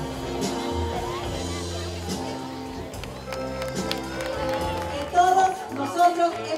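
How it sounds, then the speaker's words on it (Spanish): An audience applauds at a university carnival coronation in Campeche, and the clapping runs steadily beneath music with tonal instruments. Scattered louder bursts stand out near the end. "Fuerte los aplausos"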